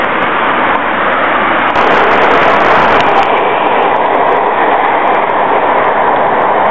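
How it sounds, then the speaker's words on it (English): A train rolls past at close range, a loud, steady rumble with rail clatter filling the whole stretch and a brief bright squeal partway through, with no talking over it. "There's another train coming,"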